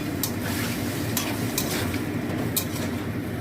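Soaked chickpeas tumble into a pan of turmeric and salt for a simple pumpkin curry, with a brief scrape and clink of stirring over a soft, steady sizzle, close and fairly quiet.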